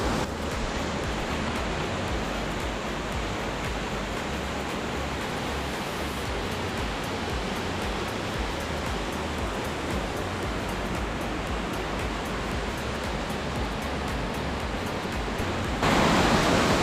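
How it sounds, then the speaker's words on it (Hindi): Kimadi waterfall near Dehradun in Uttarakhand, a steady, loud roar of rushing water that fills the whole scene without a break and is heard close up. "तो फाइनली मैं पहुंच चुका हूं वाटरफॉल पे।"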